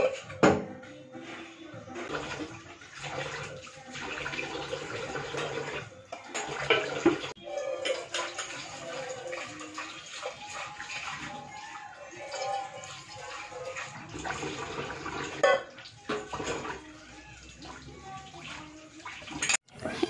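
Dishes are washed in a kitchen sink under running tap water, with steady splashing and intermittent clinks of pots and utensils over about twenty seconds, close and moderately loud, with no talking.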